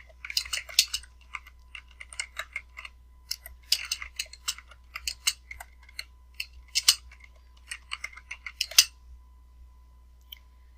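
Typing on a computer keyboard in irregular bursts of quick, crisp key clicks, close and fairly quiet, with short pauses and a low steady hum underneath.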